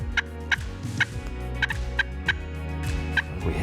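Wild turkey gobblers call across open prairie farmland, with about eight gobbles spread over a few seconds at varying distances, some nearer and some faint, over a steady low background hum.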